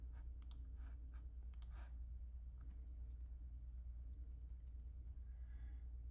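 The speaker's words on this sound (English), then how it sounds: "with this arrow here selected, I'm pushing the arrow keys on my keyboard" Faint, sparse clicks of arrow keys pressed on a computer keyboard, a few scattered taps over a steady low room hum, with no talking.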